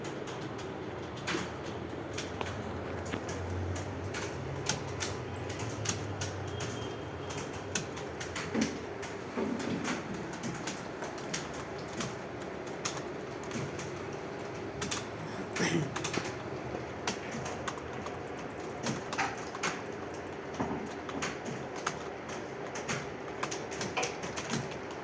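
Rapid keyboard typing during a Hindi typing test for an exam, with a dense, steady run of small clicks and taps across the whole stretch and no talking.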